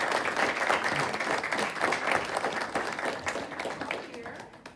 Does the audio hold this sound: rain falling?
no